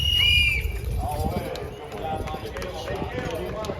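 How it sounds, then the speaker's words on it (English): Draft horses at a horse pulling contest in East Arcade, NY strain against a heavy load, hooves thudding and clopping under crowd noise and nearby voices, with a brief high whistle or call at the start. "Now we got some horses pulling."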